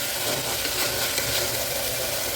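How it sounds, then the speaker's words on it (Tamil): Tomatoes sautéing in a pan for kuska, a dense continuous sizzle that is loud, close and steady throughout, with no voices. "தக்காளி கொஞ்சம் வதங்கட்டும்"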